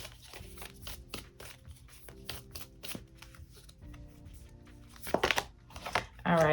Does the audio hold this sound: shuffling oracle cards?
yes